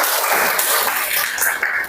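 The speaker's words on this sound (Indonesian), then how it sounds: "Tepuk tangan dulu" A classroom group applauds in a short burst of steady clapping, dense and even, with a voice faintly mixed in.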